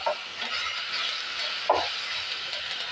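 Chillies frying in a pan for chutney, a steady soft sizzle and hiss with a few scraping stirs, one louder clack near the middle, no voices.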